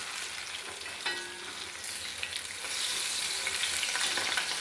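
Jackfruit boli frying in a pan, a close sizzle and crackle of hot oil that swells louder after the boli is turned over, with faint scraping from the utensil and no talking.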